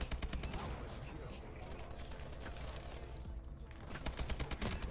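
Rapid automatic gunfire in the video game Call of Duty: Advanced Warfare, dense crackling bursts of shots running almost continuously, with a brief lull in the middle and a voice talking over parts of it.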